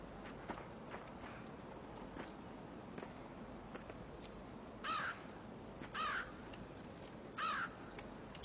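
Three harsh video game crow caws ring out a second or so apart over soft, faint footsteps.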